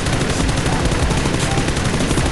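Rapid gunfire in a PUBG firefight, a dense continuous burst of automatic shots loud and close for the whole stretch, with no talk over it.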